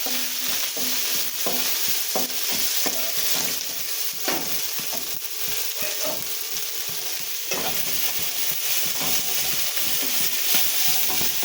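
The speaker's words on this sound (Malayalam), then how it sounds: "ഒരു കഷ്ണം ഇഞ്ചി വെളുത്തുള്ളി ചതക്കിയത്, 4 പച്ചമുളക്. നന്നായി നമുക്കിത് വാട്ടാം." Crushed ginger, garlic, green chillies and chopped onion sizzle steadily in a hot pan as a spoon stirs them in repeated scraping strokes, close and continuous.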